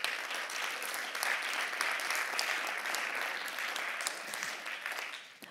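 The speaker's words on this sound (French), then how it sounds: "on peut les applaudir très fort" Sustained applause from a crowd at an awards presentation of nominees, steady and fairly loud, clapping continuing without a break throughout.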